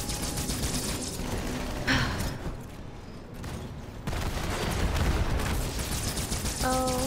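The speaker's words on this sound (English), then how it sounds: "he's shooting me!" Gunfire in the Halo video game, bursts of rapid shots with a brief lull in the middle, fairly quiet overall and mostly without talk.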